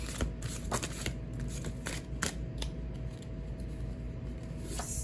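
A Dali tarot deck being shuffled by hand, a quick series of crisp riffling snaps and soft card slaps, close and fairly quiet, with no voices.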